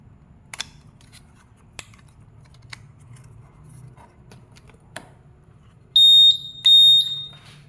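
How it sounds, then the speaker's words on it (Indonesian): Faint clicks and taps, then two short, loud electronic beeps in quick succession from a motorcycle smart key buzzer, high-pitched and close. "Ada bunyi, buzzernya berbunyi."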